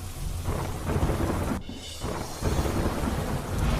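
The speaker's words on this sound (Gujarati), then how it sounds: "વડોદરા એક્સપ્રેસ હાઈવે પર ધોધમાર વરસાદ કાળા ડિબાંગ વાદળો સાથે વરસાદ વરસતા વિઝિબિલિટી ઘટી" Heavy monsoon downpour on an expressway near Vadodara, Gujarat, pouring steadily and loudly, with deep rumbling thunder rolling underneath and a brief sharp break partway through.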